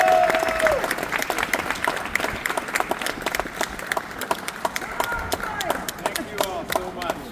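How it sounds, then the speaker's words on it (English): A rally crowd gives the chairman a big round of applause, dense clapping that rises at once and holds steady and loud throughout, with a few cheers and voices mixed in. "Can you guys give him a big round of applause?"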